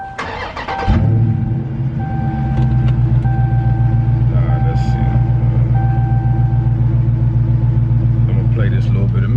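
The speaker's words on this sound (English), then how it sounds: "But let me start the car first." A Dodge Charger Scat Pack engine cranks and fires loudly after a brief moment, then settles into a deep, steady rumbling idle close by, with a person speaking briefly at the start.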